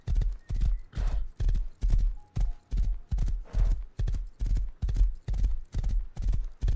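Horse hooves clip-clop in the Rust video game, a steady, even rhythm of roughly two hollow thuds per second with a faint whinny and soft voices in the background.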